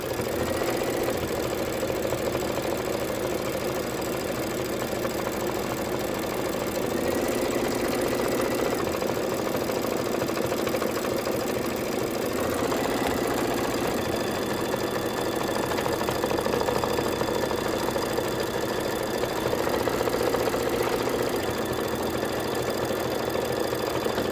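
An embroidery machine stitches down a mummy-head appliqué, producing a steady mechanical hum and rapid needle chatter that runs continuously and evenly throughout, with no voices.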